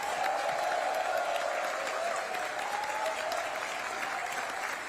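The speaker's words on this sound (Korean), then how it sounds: "우리 다시 한번 대통령 네 분 위해 뜨거운 환영의 박수 부탁드립니다" A luncheon crowd of overseas Koreans in the Philippines gives sustained, even applause to welcome the president, a dense wash of many hands heard at a distance.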